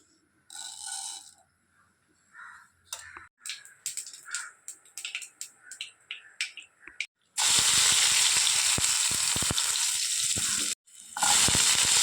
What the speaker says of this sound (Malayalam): കടുക് താളിച്ച് വറ്റൽമുളകും ഇട്ട ശേഷം നമുക്ക് ഇതേ ഉള്ളിയും കറിവേപ്പിലൊക്കെ ഇട്ട് കൊടുത്തിട്ടുണ്ട്